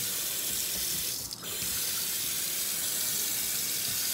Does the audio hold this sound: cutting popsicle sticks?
no